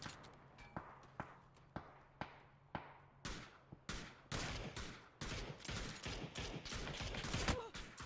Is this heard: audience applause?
no